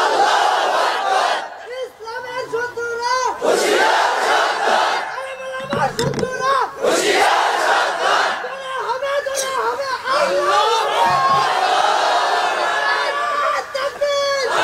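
A large crowd shouts the takbir in loud unison at an Islamic waz sermon, with repeated rising chants filling the space in waves, close and forceful.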